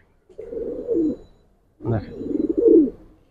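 A Giribaj pigeon coos twice, each a rolling, throaty phrase up close, the second longer and swelling; a single spoken word falls just before the second.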